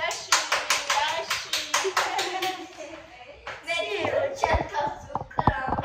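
A young girl claps her hands at home, a run of about a dozen quick, close claps, then child chatter and clattering sounds take over.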